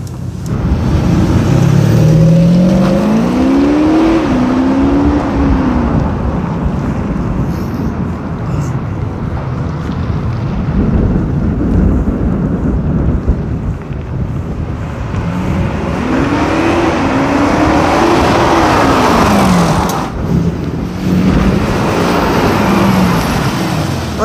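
Audi SQ5 engine revving loudly from inside the car while driving, with two rising and falling acceleration sweeps over a constant road roar and people talking throughout.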